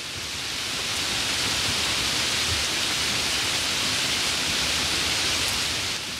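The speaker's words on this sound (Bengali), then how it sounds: "যেভাবে বৃষ্টি পড়ছে" Steady, continuous rain falling in a cartoon scene, a dense, even hiss of rainfall that swells in at the start and holds at a constant level throughout.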